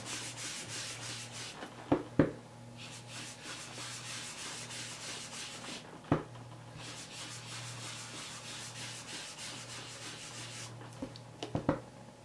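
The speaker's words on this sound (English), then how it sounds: "using an ink blending tool, I'm just going to take a little bit of that and just rub that." An ink blending tool rubs ink onto paper in soft, continuous scrubbing strokes, quiet and close, broken by a few light taps.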